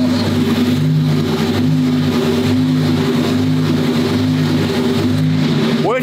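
A Lamborghini Evo 2 race car engine idles loudly and steadily up close, a deep, constant drone with a slight rise near the end.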